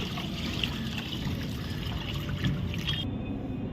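Water trickles and pours steadily in a continuous stream while an offering's water is changed, close and fairly even throughout, with no talking.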